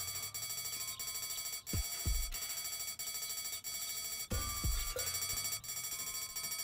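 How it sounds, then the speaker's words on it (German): An alarm rings in the point-and-click adventure game Deponia, a steady repeating electronic tone running throughout with two brief louder low thumps over a constant background hum. "Überall ist jetzt Alarm."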